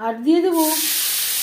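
Prawns go into hot oil already seasoned with turmeric and salt over a low gas flame, for a young jackfruit and prawn curry. A short spoken phrase comes first, then a sudden loud, steady sizzle that holds to the end.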